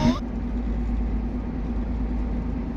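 A heavy trailer truck passes with a deep, steady engine rumble that holds at a fairly constant level, with a brief voice at the very start.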